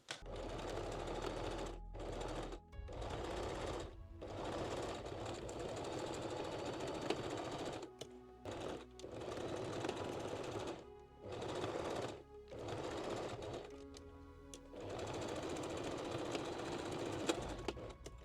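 A sewing machine stitches the side seams of a homemade bikini top, running loud and close in steady bursts separated by several short pauses.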